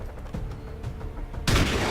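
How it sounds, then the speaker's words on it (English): A shotgun blast in the video game XCOM 2 bursts out loud and sudden after a stretch of low rumbling ambience, then holds as a sustained roar. "Fire the shotgun."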